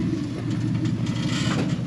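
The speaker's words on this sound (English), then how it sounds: "It's got a good exhaust on this thing. V8, it's quiet." A V8 rock crawler rig idles steadily through a good, fairly quiet exhaust, its deep, even rumble close and continuous with no talk over it.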